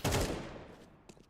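A single sharp burst of gunfire cracks out loud and near during a competitive Counter-Strike-style shooter match, followed by quick fading echoes and a couple of faint follow-up clicks.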